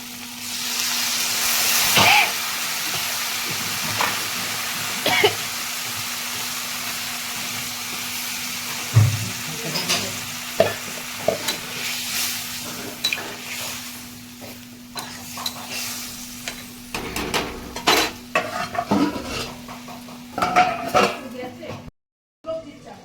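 Dried fish curry with potato, eggplant and beans frying in a pan as water is added, giving a loud hiss and bubbling sizzle with scraping stir strokes and occasional pan knocks, a voice talking over it, and a short gap near the end.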